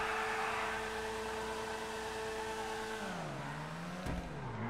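A steady engine drone from an Annis Saversta in GTA V holding a burnout, then the pitch drops and climbs again as the car launches with a brief squeal, all fairly faint.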